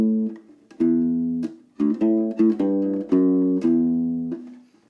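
U-Bass ukulele bass playing two measures of a song with a syncopated rhythm: a run of low plucked notes, some short and clustered, others held, close and clear without any voice.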